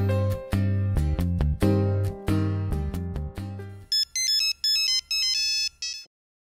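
A mobile phone ringtone plays loudly, a synthesized melodic tune with strong low chords that then switches to a higher, thinner chiming pattern before cutting off.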